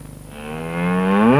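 Single drawn-out cow moo, loud and close, rising in pitch and swelling in volume over about a second and a half, with no voices around it.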